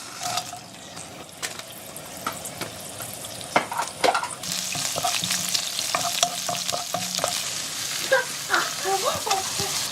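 Steady sizzling and crackling of green onion stir-frying in hot oil, with utensil scrapes and clinks as it is stirred in a pan.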